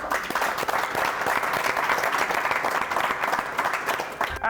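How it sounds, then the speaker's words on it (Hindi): An audience claps loudly and continuously, a dense wash of applause that holds steady for several seconds before tapering slightly. "जोरदार तालियां बजाते हैं"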